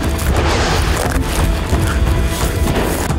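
Explosions from incoming fire in Iraq: a continuous, heavy, close rumble of blasts and crashing debris that fills the whole stretch without a pause.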